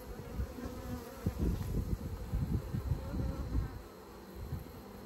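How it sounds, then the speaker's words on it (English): Many honey bees buzz close by in an open hive, a thick droning hum that swells and dips in irregular pulses as insects move around. "But there's just so many bees in here."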